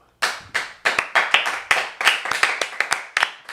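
One person claps their own hands in a quick, uneven series of about a dozen sharp, close claps lasting a few seconds, with no talk over it.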